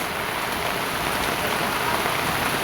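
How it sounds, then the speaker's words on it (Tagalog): Heavy rain pours down in a dense, unbroken hiss of drops drumming on surfaces, loud and constant throughout with no other sounds. "Oh, grabe kusog ka sa uwan."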